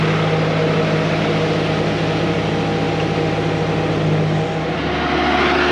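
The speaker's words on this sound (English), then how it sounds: "we're going to pump off probably another half a meter to a meter here" A Putzmeister TK60HP concrete pump pushing shotcrete through 400 feet of line runs as a loud, steady mechanical drone with a constant engine hum that shifts slightly in pitch near the end, with no talking.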